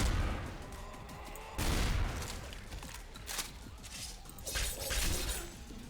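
Gunfire from a double-shot weapon in the Garry's Mod mod Temporal Assassin, with two sharp, loud blasts roughly a couple of seconds apart over busy game noise, followed by smaller impacts.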